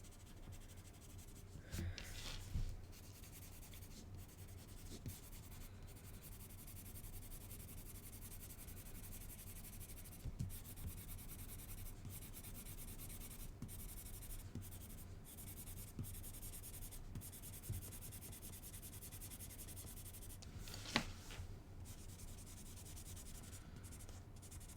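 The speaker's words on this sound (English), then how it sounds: "I'm being really rough here and I'm just laying down the colour." Marker being dragged roughly across marker paper to lay down colour, a steady scratchy rubbing stroke throughout with a few sharper squeaks, close and fairly quiet over a low background hum.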